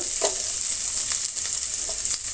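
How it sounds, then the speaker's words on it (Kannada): Cut dried red chillies frying in hot oil in a pan, a loud continuous close sizzle with a few soft stirring scrapes, no voices. "ಒಣಮೆಣಸಿನ್ಕಾಯಿ ಕಟ್ ಮಾಡಿರೋದನ್ನು ಹಾಕ್ತಾಯಿದ್ದೀನಿ ಇಷ್ಟು ನಾವು ಫ್ರೈ ಮಾಡೋಣ ಮೊದಲು"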